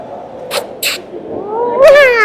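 A cat gives a drawn-out, rising meow near the end, close and clear, after two brief soft noises over a low background hum.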